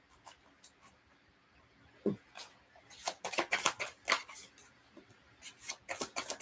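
A deck of cards shuffled by hands wearing fake nails: soft papery rustles, then bursts of close, rapid riffling that come in two bunches separated by brief pauses.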